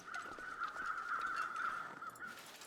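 A crow caws in The Long Dark video game, a steady, harsh, drawn-out call held for several seconds over soft ambient background.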